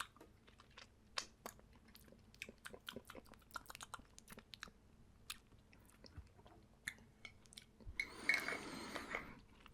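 Crisp crunching and clicking bites of crunchy Belgian chocolate being chewed up close, irregular and quiet, ending in a brief louder rustle.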